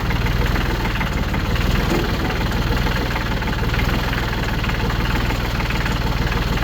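A New Holland loader's engine runs steadily at a low, loud idle-like rumble with constant vibration while the loader arm is raised and lowered, no talk over it.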